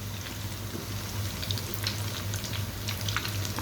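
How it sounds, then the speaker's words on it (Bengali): Continuous bubbling and crackling of noodle fritters deep frying in oil, with a low steady hum underneath. "আর ভাজবেন খুব ডুবো তেলে বাট খুব হালকা ব্রাউন ব্রাউন করে"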